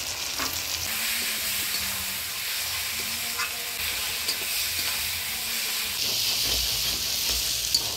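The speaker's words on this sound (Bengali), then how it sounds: "মশলাপাতি দিয়ে ভালো করে ভাজা ভাজা করে নিলাম" Ground spice paste of ginger, coriander, cumin, chilli, garlic, turmeric and salt fries in a pan with a steady close sizzle and hiss, with occasional stirring scrapes and no speech.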